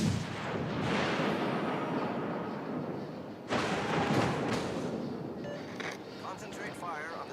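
Naval artillery in a warship video game booms in heavy, sustained salvos, with a loud fresh blast midway and a rumbling wash between shots, while a voice talks over it.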